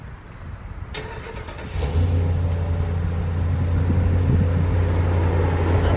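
A car's engine idles and then rumbles low and steady as the car creeps forward slowly during a driving lesson, close and continuous, with no talk.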